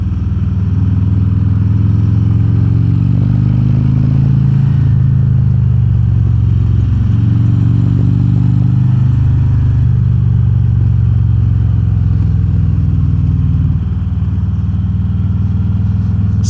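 A 2022 Harley-Davidson Road Glide Special bagger ridden in third gear at about 3,000 rpm, its loud, deep engine rumble steady and close, with the note rising and falling through a curve over strong wind noise.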